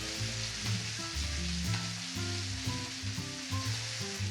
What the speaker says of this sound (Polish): położymy ją od strony skóry, będziemy ją smażyć przez mniej więcej 4-5 minut